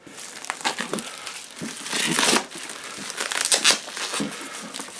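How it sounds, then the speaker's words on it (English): Plastic wrap being torn and crinkled off a small retro-style box of the Survive board game, close-up bursts of crackling and rustling that swell and fade, with no talk. "So, let's open up the packaging."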